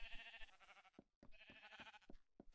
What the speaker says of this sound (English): Now I've got some lime green and black sheep.